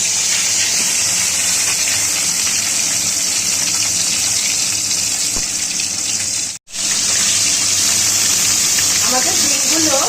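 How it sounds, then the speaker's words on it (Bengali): Boiled duck eggs frying in hot oil in a home kitchen, a steady loud hiss and sputter that runs throughout, broken by one brief silent gap, with a voice speaking faintly over it. "আমাদের ডিমগুলো ভাজা হচ্ছে।"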